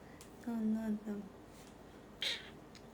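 A cat gives a short meow, then a second quick meow follows, with a higher faint squeak a moment later, in a quiet room with no talk over it.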